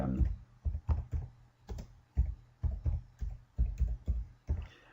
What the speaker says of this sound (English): And we type in there